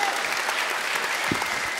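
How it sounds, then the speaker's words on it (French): Audience at a live onstage talk applauding, a dense, even wash of clapping filling the whole short stretch without pause. "bah on l'applaudit s'il vous plaît"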